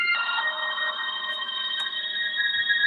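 A telephone rings with a steady electronic trill in a scene from the 2016 horror film Sadako vs. Kayako, sounding close, continuous and alone.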